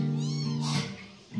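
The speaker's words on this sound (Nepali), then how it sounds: "बिरालो छ है यहाँनिर चाहिँ" A small kitten gives one thin, rising meow, close and fairly clear over a steady low hum.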